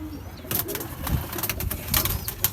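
A female pigeon coos softly and repeatedly close by among a breeding pair and their chicks, with light rustling between the calls and no speech.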